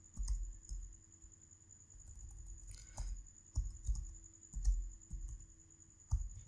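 Keys tapped on a computer keyboard during coding work, with soft irregular clicks and occasional louder strokes, close and quiet over a faint steady electrical hum.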